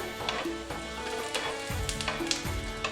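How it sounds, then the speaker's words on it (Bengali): Dried red chillies and garlic frying in a pan for a mashed hilsa tail dish, a bright close sizzle with scraping stirs and soft clinks of a utensil against the pan. "শুকনো লঙ্কা আর রসুনটা ভালো করে ভেজে নিচ্ছি"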